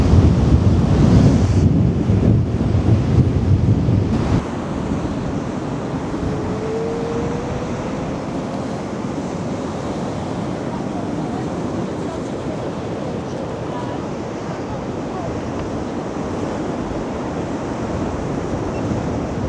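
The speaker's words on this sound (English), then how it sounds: "how windy it is, and this is how rough the sea is" Rough sea and strong wind on the Blackpool seafront during savage tides: heavy wind buffets the microphone over continuous crashing surf, loudest at the start and then settling into a steady roar.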